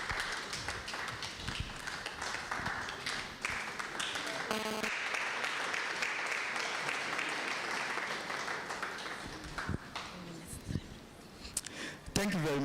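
An audience at a university parents' night applauds steadily as a teacher is welcomed onto the stage, the dense clapping continuing for several seconds with a voice speaking over it and a few louder claps near the end.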